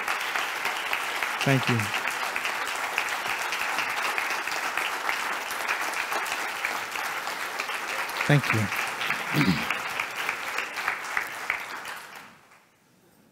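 Sustained audience applause fills a keynote hall at FOCUS 2019, steady and dense for about twelve seconds before fading out, with a voice briefly saying thanks over the clapping.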